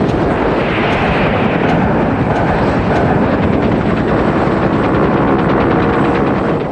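A UH-1 Huey helicopter roars loud and steady with a rhythmic rotor thump throughout, no voices over it.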